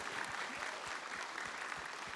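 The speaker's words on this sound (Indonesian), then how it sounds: "Yeay, tepuk tangan dong." Studio audience applause on a live Indonesian talk show, a steady wash of many hands clapping at moderate level, continuous throughout with no voices on top.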